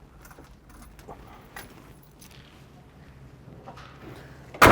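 Car keys for a 1969 Mercury Cyclone jangle in a few light, scattered metallic clinks, closing with a loud, close burst of rattling.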